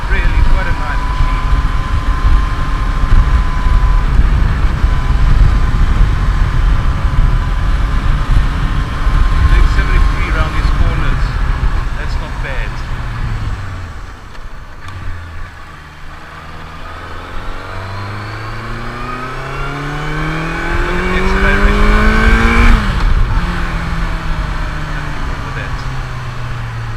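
A Honda CB650F motorcycle rides corner after corner on the winding Mae Hong Son loop in Thailand, its engine note rising and falling through gear changes under steady wind noise, with someone talking over it throughout.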